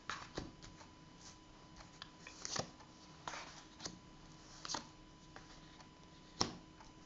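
Tarot cards are shuffled and drawn, producing soft, irregular flicks and slaps close by, with quiet gaps between the card sounds.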